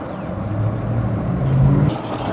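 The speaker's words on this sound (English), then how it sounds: "There's an old, like an old Model T car." An old Model T style tour car drives past outdoors, a steady low engine rumble that swells slightly toward the end before easing off.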